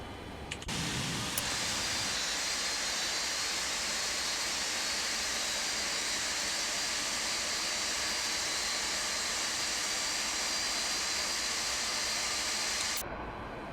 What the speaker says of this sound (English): There's engine 2 revving up.